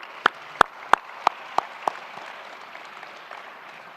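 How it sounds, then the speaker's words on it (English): A few scattered, sharp handclaps ring out at a ceremony in Ottawa honouring the Ukrainian people, applauding the conductors of a children's choir. About six separate claps come in quick succession, then fade into quiet room tone. "You deserve your applause as well."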